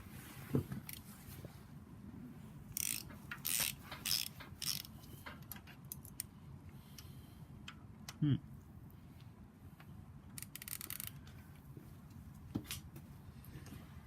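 A ratchet loosening the small cylinder head bolts on a BMW N54 engine from a 135i, heard as scattered bursts of quick clicking with a few metallic knocks, quiet and close, with a voice speaking faintly at times.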